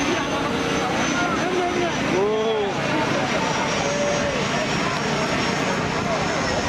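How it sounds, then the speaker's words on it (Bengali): An airplane flies over Cox's Bazar sea beach as a steady, broad roar that swells slightly in the middle and blends with constant seaside noise. "এই যে উড়োজাহাজ যাচ্ছে"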